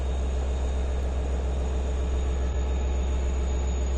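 Long Island Rail Road train 2724 at Speonk station, idling before departure: a steady low diesel rumble and drone, loud and unchanging, with a faint high whine above it and no voices.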